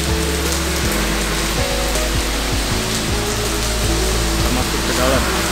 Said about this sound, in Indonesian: Di luar lagi hujan.